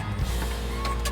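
On a custom car, an electric motor closes the canopy with a brief, close mechanical whir lasting about a second.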